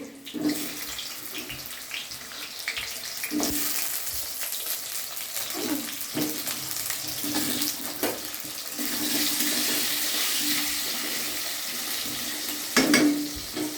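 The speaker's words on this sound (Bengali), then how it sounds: "আলু বাকল শুদ্ধ লম্বা লম্বা করে কেটেছি, এটা একসাথে সাঁতলে নেব। দিয়ে দিলাম আলুগুলো।" Skin-on potato strips sizzle and fry in a pan, a steady broad hiss with occasional clinks and stirring scrapes throughout, growing slightly louder toward the end.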